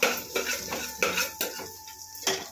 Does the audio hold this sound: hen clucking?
no